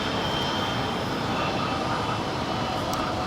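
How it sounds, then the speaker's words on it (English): A United Boeing 787-10 Dreamliner takes off on the south side of Los Angeles LAX airport, heard as a continuous, loud broadband engine roar throughout the short stretch. "That was a 787-10 Dreamliner there with United taking off here on the south side."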